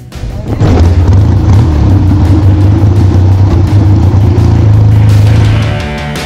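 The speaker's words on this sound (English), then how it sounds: "So it's an alcohol fueled, mechanically fuel injected, supercharged 1956 Triumph per unit." Supercharged, alcohol-fueled, mechanically fuel-injected 1956 Triumph pre-unit motorcycle being ridden at a Cleveland motorcycle show, a loud, steady, deep engine roar held for several seconds close up before easing off at the end.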